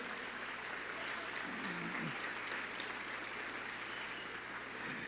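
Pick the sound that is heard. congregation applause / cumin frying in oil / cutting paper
congregation applause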